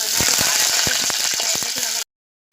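Garlic sizzling and frying in hot oil as the base for a mackerel fish curry, a dense steady crackle with scattered pops and spatters for about two seconds before cutting to silence.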